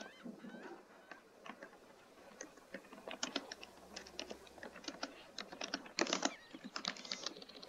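Rapid, uneven typing on a computer keyboard, with sparse clacks building into dense bursts of keystrokes, close and fairly quiet, with no voices.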